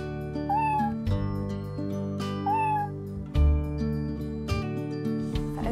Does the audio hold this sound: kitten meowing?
yes